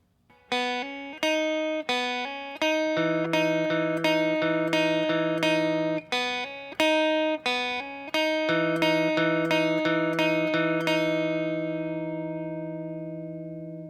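A distorted electric guitar plays the verse riff of a song, a repeating pattern of sharply picked notes and chords with steady rhythm, ringing out at the end.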